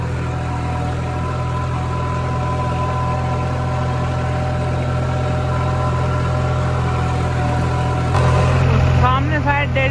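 A tractor engine idles steadily in a corn field during harvest, a constant low, close drone running through the whole stretch with a brief louder burst near the end.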